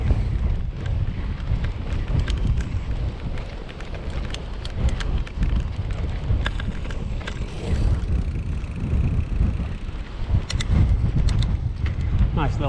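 Strong wind buffets a rider on a scenic ride through the Vale of Clwyd, a steady, loud rushing roar right up close that never lets up across the whole stretch.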